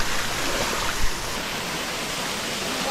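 Stewart Mountain River in St Mary, Jamaica rushes steadily nearby, a loud, continuous broadband roar of flowing water with no break and no voices.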